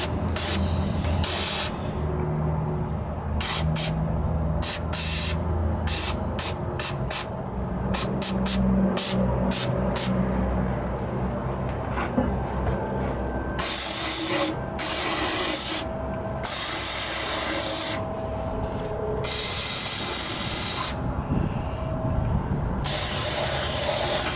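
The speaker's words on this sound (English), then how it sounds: "Get the brake cleaner and spray it in there." Repeated hissing bursts of brake cleaner aerosol spray during a rear differential fluid change on a Ford F-150 pickup, short rapid blasts at first, then longer sustained sprays, close and loud over a faint background rumble.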